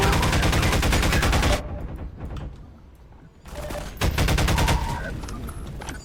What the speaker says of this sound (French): je lui fous une double cartouche dans la gueule quoi